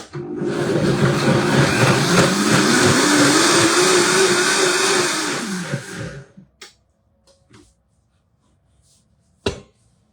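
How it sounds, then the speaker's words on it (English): A Vitamix blender whirs loudly and steadily as it purees salad dressing, running for about six seconds before switching off, followed by a few faint clicks and a brief knock near the end. "So dressing, just blending it up in my Vitamix."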